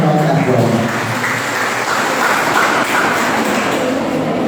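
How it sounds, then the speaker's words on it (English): A school audience gives a big, sustained round of applause at a World Literacy Day celebration, loud continuous clapping for several seconds. "Give her a big round of applause."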